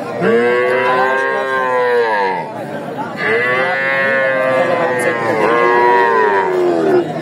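A young Friesian heifer calf, about two to three months old, moos loudly at a rural cattle market in Sirajganj, three long drawn-out calls close by.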